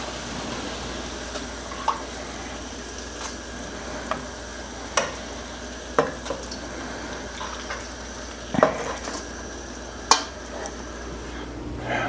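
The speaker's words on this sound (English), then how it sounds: "Shrimp is frying away." Shrimp frying in a pan in a home kitchen, a steady low sizzle with occasional sharp pops and clicks, no voices.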